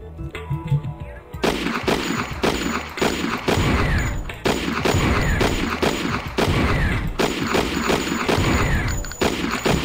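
Player gunfire in the video game Thing Thing 2 rings out as loud, close shots in rapid repeated bursts, a steady rhythm of sharp cracks with brief pauses between volleys.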